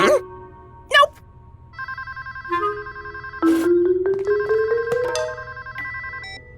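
A telephone rings in a cartoon scene with bright electronic chiming tones repeating in a pattern, fairly loud, mixed with sliding effects and short bursts of other sound.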